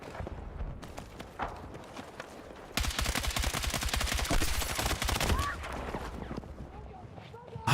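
Gunfire in Battlefield 6: scattered shots at first, then a sustained loud automatic burst lasting several seconds, with the battle noise continuing afterward.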